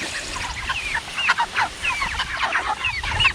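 Six-week-old meat chickens crowd in at feeding time, giving busy overlapping clucks and squawks at close range that rise and fall in quick bursts over a low outdoor background.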